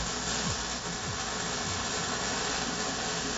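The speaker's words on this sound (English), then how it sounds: "I'm welding." Welding on Fox-body Mustang suspension parts gives a continuous, even crackling hiss that holds steady throughout the short stretch.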